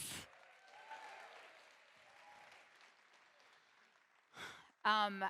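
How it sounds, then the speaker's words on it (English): An audience at a HOPEx 2024 talk applauds softly and steadily at a distance, and a speaker's voice cuts in near the end. "Another round of applause."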